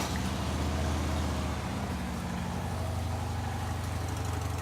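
The factory exhaust of a 2012 Harley Davidson Dyna Glide motorcycle idles in a steady, deep, loping rumble, close and continuous throughout.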